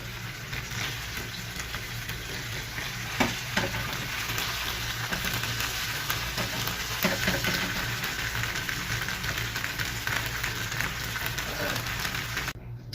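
Chicken pieces coated in oily masala fry on a flat tawa for a Saudi kabsa, a steady soft sizzle with crackling pops throughout, heard alone without talk.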